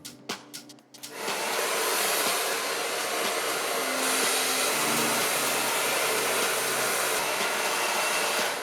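A handheld hair dryer blowing a section of hair on a round brush for volume, starting after a few short clicks and then roaring steadily and loudly without a break for most of the clip.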